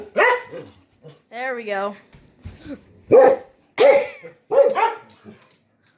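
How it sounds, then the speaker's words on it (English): Dogs indoors by a window give a few loud barks and yips in short bursts, mixed with a person talking close by. "They're actually barking for a reason."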